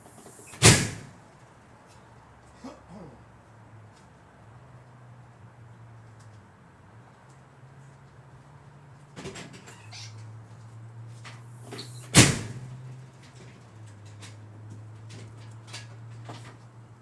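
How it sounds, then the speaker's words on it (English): A heavy backyard door slams shut twice with loud, sharp bangs several seconds apart, while a low hum and faint scattered knocks fill the gaps. "That door is loud, but it has to be, because if I try to close it any less, it won't close"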